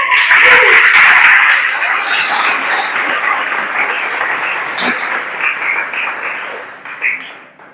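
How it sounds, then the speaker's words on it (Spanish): Church congregation applauding during a Spanish-language sermon, a loud burst of massed clapping at the start that slowly thins and fades, with some scattered voices mixed in. "Dale un aplauso a Cristo."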